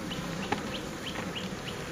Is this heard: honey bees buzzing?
yes